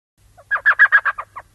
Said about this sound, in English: Click on the bird call to attract a bird.